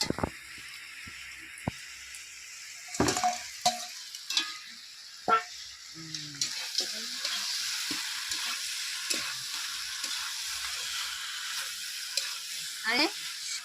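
Fish heads going into hot oil in a village kitchen for a Bengali pui shak chorchori with koi fish, sharp clanks and scrapes, then a rising, steady sizzle of frying close by.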